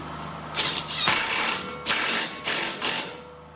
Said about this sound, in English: And then I use the impact wrench to tighten it.